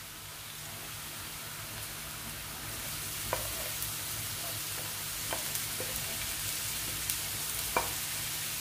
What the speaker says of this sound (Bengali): লাউয়ের খোসাগুলো দিয়ে এটাকে কিছুক্ষণ পেঁয়াজের সাথে মিশিয়ে নিব